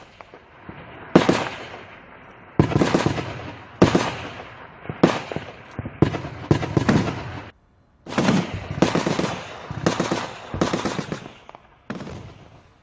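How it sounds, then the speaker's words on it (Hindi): Gunfire and shelling at the Line of Control in Hajipir: repeated bursts of sharp shots and cracking reports come in irregular clusters, some loud, some more distant, with a brief pause midway and no voices. "गोलियों की आवाजें लगातार सुनाई पड़"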